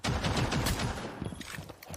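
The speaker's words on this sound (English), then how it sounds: "I love Snake's pistol. The sound it makes is so cool." Snake's pistol in a video game fires a quick burst of sharp gunshots, loud and close, over about two seconds.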